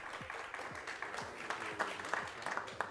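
An audience at a payments industry talk applauds a speaker coming on stage, a thin crowd giving fairly faint, steady clapping with a few sharper individual claps standing out.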